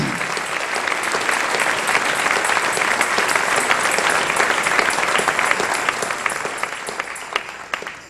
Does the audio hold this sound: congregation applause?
yes